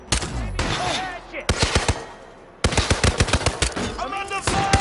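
Rapid automatic gunfire in the Hitman 2 video game, with bursts of sharp, loud shots in quick rhythm broken by brief pauses, alongside game voices and effects.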